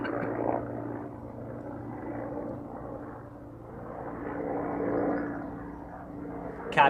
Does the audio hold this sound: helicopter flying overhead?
yes